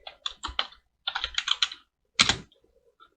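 Typing on a computer keyboard, close and crisp, quick clusters of key clicks in two runs followed by a single heavier key press, then silence.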